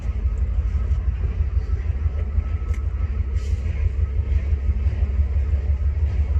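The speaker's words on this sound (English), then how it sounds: "I'll be respectful of the train and not shoot while a locomotive's going by" A passing train locomotive near wooded private property gives a steady, heavy low rumble that holds at an even loudness throughout, with no voices over it.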